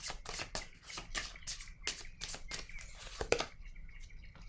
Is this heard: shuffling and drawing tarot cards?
yes